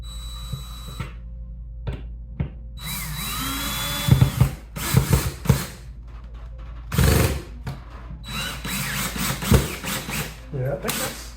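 Power drill boring into a wooden wall stud during an indoor mini-split unit installation, several short close bursts of whining motor and grinding bit separated by pauses, with a voice briefly in between.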